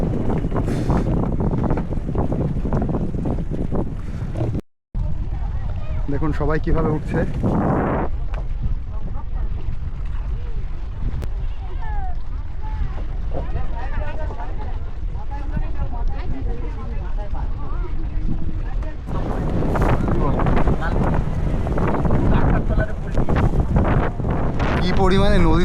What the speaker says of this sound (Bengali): কি পরিমাণে নদীতে ঢেউ হচ্ছে ভাবতে পারবেন না, নৌকা পুরো উথল পাতল হয়ে যাচ্ছে